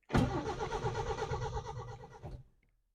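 Starter cranking the engine of a 1979 Subaru BRAT that has sat for four years, a loud, close, rapid rhythmic churning lasting about two seconds before cutting off abruptly, with no voices.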